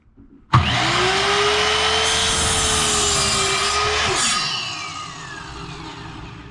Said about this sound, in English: First, cut the tip of your furring strip at a 45-degree angle.